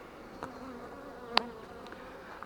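Honeybees buzzing around an open beehive just after rain, a soft steady drone with a single bee darting close past the microphone, no voices.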